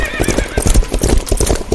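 Horses gallop with steady clip-clopping hooves and repeated whinnies in a sound effect, loud and close throughout, with no talking.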